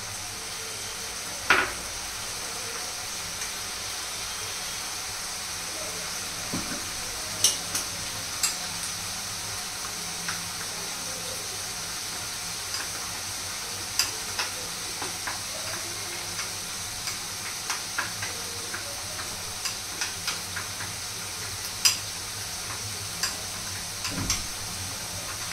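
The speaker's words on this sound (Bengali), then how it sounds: "যতক্ষণ না কাঁচা গন্ধটা যায় একটুখানি এটাকে কষে নিচ্ছি আর কি" A spice mixture for chicken sautéing in a pan, a soft steady sizzle running throughout, punctuated by scattered sharp ticks and scrapes of stirring; fairly quiet and close, with no talk.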